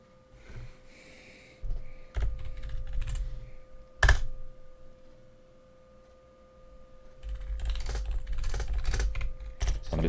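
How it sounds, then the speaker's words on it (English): Light typing on a computer keyboard comes in quick bursts of soft clicks with pauses between them, near and fairly quiet, with a faint steady hum underneath. "I'm just typing in the comments here in the chat."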